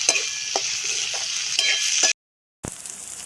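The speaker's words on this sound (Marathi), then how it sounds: "टोमॅटो पूर्ण फ्राय करून घ्यायचे आहे आपल्याला।" Tomatoes frying in a pan, a steady close sizzle broken by regular scraping strokes of a spoon stirring, with a brief silent gap before the sizzling and stirring resume.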